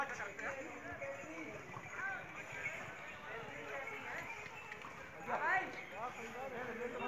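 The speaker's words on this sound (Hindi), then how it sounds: "लोग घोड़े पे जा रहे हैं।" Horses carrying riders plod past amid a crowd of tourists on snowy ground in Shimla, their faint clip-clop hoofbeats mixed into steady background chatter and voices.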